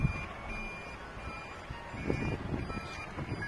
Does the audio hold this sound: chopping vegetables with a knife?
no